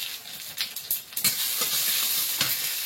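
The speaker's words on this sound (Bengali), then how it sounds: "এদিকে কড়াইয়ে তেল দিয়েছি, শুকনো লঙ্কা, তেজপাতা," Dry chili, bay leaf and mustard seeds fry in hot oil in a wok, making a close, loud, hissing sizzle punctuated by sharp pops and stirring scrapes, then settling into a steady crackle.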